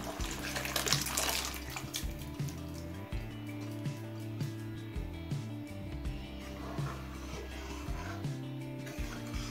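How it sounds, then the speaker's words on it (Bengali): Boiled matar dal poured into a pan of cooked vegetables over a high flame, a thick, sloshing, gurgling flow under a steady low hum, with no talking. "এবার সিদ্ধ করা মটর ডালটা দিয়ে দিচ্ছি"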